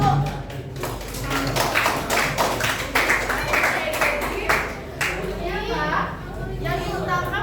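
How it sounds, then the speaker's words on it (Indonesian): High school students in a classroom guidance session clap their hands in a loose, uneven burst of sharp claps, mixed with children's chatter and voices throughout. "Oke, tepuk tangan dulu"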